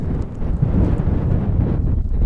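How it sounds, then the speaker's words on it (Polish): Wind buffets a microphone on the summit of Śnieżnik mountain, a steady, close, low rumbling roar with gusty swells and no voices. "Trochę duje, ale mam nadzieję, że ten mikrofon tutaj nie zbierze tego wiatru"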